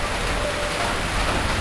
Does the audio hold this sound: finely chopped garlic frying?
no